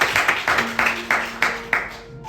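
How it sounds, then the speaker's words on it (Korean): A church congregation claps together in a slow, steady rhythm, about seven sharp beats in a reverberant hall before the clapping fades out. "우리 감사의 박수 한번 들려드리겠습니다."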